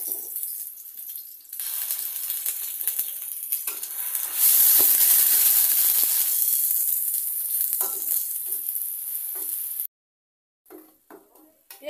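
Onion paste sizzles loudly in hot leftover fish-frying oil in a kadai while being stirred, with a steady hiss that swells midway, scraping stir strokes, then a sudden cut to near silence.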